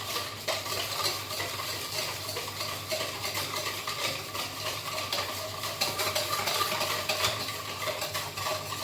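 Russian salad is stirred in a bowl with salt and ground black pepper, a continuous close rustling churn with soft clinks of a spoon, steady and unbroken, no talking.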